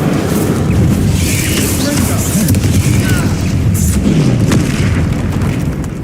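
The Incendio fire spell cast in the video game Hogwarts Legacy, a loud, dense, roaring blast of flame with booming low rumble, sustained for several seconds amid game action.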